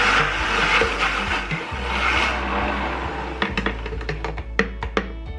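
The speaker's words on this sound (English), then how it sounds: "once we got the cauliflower blended up" A blender chopping cauliflower whirs steadily for a few seconds, then slows and stops, leaving a series of sharp clicks and knocks.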